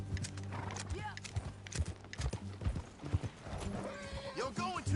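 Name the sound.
horses galloping while riding in the video game Red Dead Redemption 2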